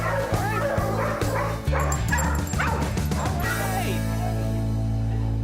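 Dog barking in short yips and bow-wows, then whimpering, the dog formerly abused and fearful; repeated close barks for several seconds, ending in a steadier hum of background noise.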